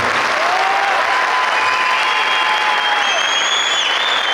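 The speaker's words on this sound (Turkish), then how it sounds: "Bence daha güçlü alkış hak ediyorlar." Loud, steady applause from an audience at a children's choir concert fills the whole stretch without pause, with a few faint whistle-like tones riding above the clapping.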